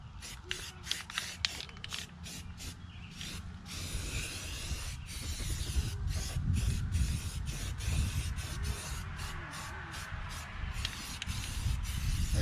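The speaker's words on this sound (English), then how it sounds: "I'm gonna grab the primer, shake that up, get this nice and clean." A shaken spray can of primer sealer, first rattling in a quick series of sharp clicks, then releasing a steady, close hiss of spraying onto a Willys CJ3B bumper.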